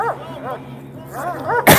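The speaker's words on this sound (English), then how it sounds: "Oh, they got the dogs too." Police dogs barking outdoors near a detention center with a heavy police presence: a few sharp barks in two short bursts, fairly close, under a steady background rumble, ending in a loud noisy burst.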